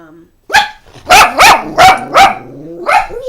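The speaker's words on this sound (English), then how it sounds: "I'm really sorry about the dogs barking too." Dogs barking indoors, loud and close, a burst of about five or six sharp barks in quick succession after a brief pause.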